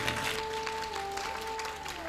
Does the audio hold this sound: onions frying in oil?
no